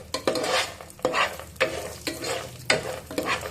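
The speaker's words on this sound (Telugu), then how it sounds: "అలానే కొన్ని జీడిపప్పులు మరియు పల్లిపప్పులు వేసి కలర్ మారేంత వరకు" Cashews and peanuts frying in a pan for upma, with regular scraping stir strokes about every half second over a steady close sizzle, and no voices.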